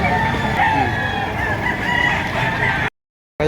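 Roosters crowing repeatedly at a busy Batangas chicken market, loud and close, with clucking fowl and crowd noise throughout before a brief cut to silence.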